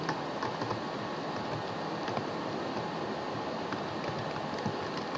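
Steady typing on a computer keyboard, fast light key clicks continuing throughout over a faint background hiss, with no talking.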